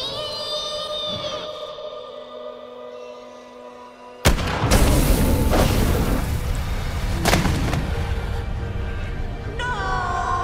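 A single sharp, loud gunshot from a firearm in the horror game The Quarry cracks out mid-scene after a tense, quiet stretch, followed by a sustained roaring rumble and echo, with voices speaking nearby.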